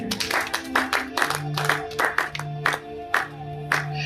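A church congregation claps in a steady, rhythmic beat, the sharp hand strikes repeating over sustained musical tones, with no clear cheering.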